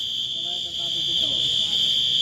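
A basketball game-end buzzer sounds as a loud, sustained electronic tone that holds steady throughout, with crowd and court noise underneath.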